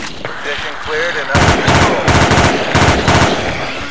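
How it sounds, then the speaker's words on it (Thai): Rapid automatic gunfire from players shooting zombies in a Battlefield Adventure video game, loud and sustained in bursts after a brief quieter start, with a voice talking excitedly over the shooting. "ช่วยยิงมันทีใครมีช็อตการยิงมันที"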